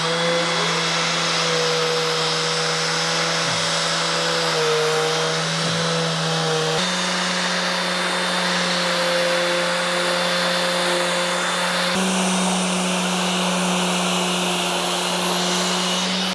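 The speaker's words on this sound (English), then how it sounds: "So I chose this detail sander, and I will only use partial pad" A small detail sander whines steadily and continuously on a wooden mitered frame, using a partial pad, its buzzing pitch shifting slightly a few times as it works along the surface.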